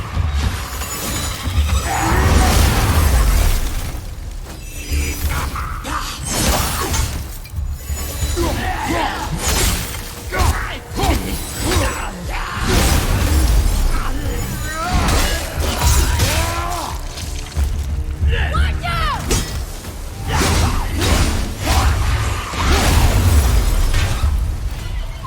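Objects shatter again and again in God of War 2018 gameplay: loud, dense crashes and bursting smashes come in rapid clusters with booming impacts, filling the whole stretch with almost no pause.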